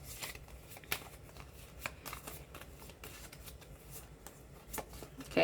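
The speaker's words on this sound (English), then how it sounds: "So I'm gonna go ahead and shuffle this up," Tarot cards shuffled by hand, a quiet, close series of quick riffling flicks and soft slaps repeating irregularly, with no talking.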